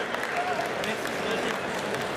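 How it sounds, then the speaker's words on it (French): Crowd applause at a Japan Expo stage event, a dense wash of clapping held steady throughout at moderate level, with faint voices mixed underneath. "Applaudissez Yannis s'il vous plaît."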